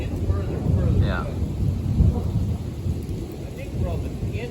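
Far-off thunder grumbling low during a thunderstorm while rain patters steadily, a soft rolling rumble with brief faint voices.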